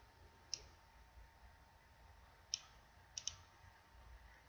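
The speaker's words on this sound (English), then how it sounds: "I always want to click on the links to make sure that they work" A computer mouse clicks through links while a blog post is being set up, four faint, sharp clicks against a quiet room, spaced apart, with the last two in quick succession.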